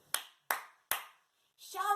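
Three sharp hand claps ring out at an even pace, close and crisp with short decays. A brief voiced sound follows.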